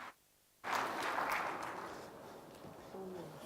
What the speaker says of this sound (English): Ladies and gentlemen, let's give a big round of applause